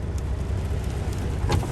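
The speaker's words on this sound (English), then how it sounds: "Downpour." Heavy rain pours down around a truck on the road, a dense steady wash of noise with no clear gaps and a brief brighter splash near the end.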